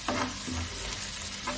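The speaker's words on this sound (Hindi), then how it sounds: "मैं इसे भूंज रही हूँ लगातार चलाते हुए" Ginger roasts in ghee in a pan while being stirred continuously, a close, steady sizzle with a couple of brief scraping strokes of a spoon.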